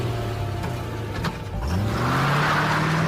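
A car engine starts with a brief mechanical burst, then revs hard and rises in pitch as the vehicle speeds away, the engine note climbing steadily and staying loud to the end, with no voices.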